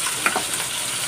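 Steady oil sizzling and crackling from fish frying in a pan, close and continuous, with a faint clink of a utensil early on.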